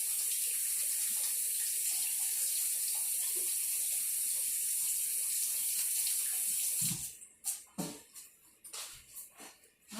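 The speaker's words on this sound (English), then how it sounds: "I'm gonna wash my hands." Tap water runs steadily into a kitchen sink as hands are washed while making fruit and oat scones, a close, continuous gush that stops after about seven seconds and gives way to a few splashes and drips.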